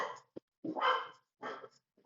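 Dogs bark in short, sharp bursts, several quick barks in a row with brief silent gaps, close and fairly loud, with no talking over them.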